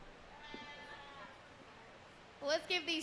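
A goat bleats once near the end of a brief, quiet stretch during senior showmanship at a county fair, with faint crowd murmur beneath.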